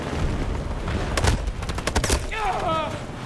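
Gunfire in the Battlefield 2042 shooter game: a rapid cluster of sharp, loud shots bursting in the middle, with continuous battlefield rumble throughout and a short whistling tone at the end.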